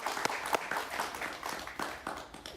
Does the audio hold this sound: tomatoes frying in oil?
no